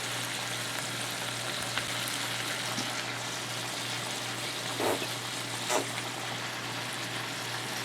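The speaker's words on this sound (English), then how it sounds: "And I will flip those burgers one more time." Hamburgers fry on a griddle with a steady, close hiss and crackle, plus a low hum beneath and a couple of brief soft scraping bumps.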